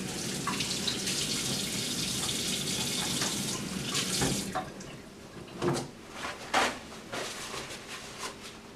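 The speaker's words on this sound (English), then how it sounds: "I'm going to wash my hands." A kitchen tap runs steadily while hands are washed beneath it, a full rushing stream that later thins into irregular splashes and drips, close and without speech.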